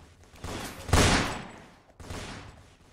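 Sniper shots in the Roblox Fortnite video game: a loud, sharp blast near the start, then a second, softer shot about a second later, with no talk.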